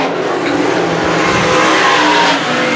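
Modified race cars roar around the oval at Can Am Speedway, a loud continuous engine drone swelling and fading slightly as the field passes, with no talk over it.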